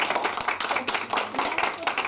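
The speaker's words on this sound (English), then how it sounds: "the church joins in a great hand clap" A church congregation joins in a group hand clap, rhythmic claps at moderate distance mixed with scattered voices and chatter in a reverberant room.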